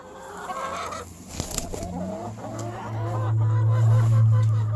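Chickens clucking and calling inside a backyard coop, several birds close by with a steady low-pitched murmur that swells toward the end.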